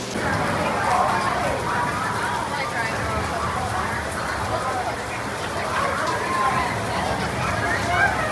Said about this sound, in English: The rain's only supposed to last for about 15 minutes